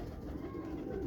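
Pigeons of a colonel-type racing breed cooing softly and continuously in a loft, low murmuring calls close by with no speech.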